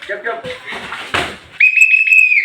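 A single sharp referee's whistle blast at boxing sparring practice, loud and close, held steady for about a second after a coach's shouting.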